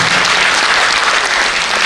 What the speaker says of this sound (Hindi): एक बार घर जैसी तालियां बजा के दिखा